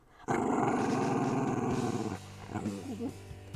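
A dog growls loudly and close by in one sustained, rumbling stretch of about two seconds, then fades into quieter, uneven noises.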